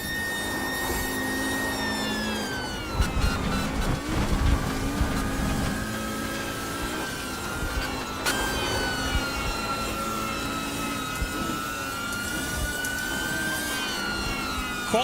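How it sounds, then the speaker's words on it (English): An Audi Quattro rally car engine in a racing simulator game revs hard and steadily, its harsh whining tone rising and falling through gear changes, loud and close with no voices. "King Carrot, that is the sound of the Audi Quattro."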